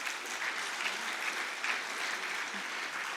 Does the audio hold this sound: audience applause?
yes